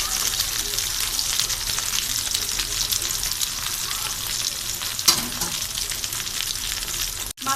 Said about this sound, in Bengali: মাছটা আমি এক পিঠ একটু লাল করে ভেজে নিয়েছি এবং অপর পিঠও এভাবে লাল করে ভেজে দেব।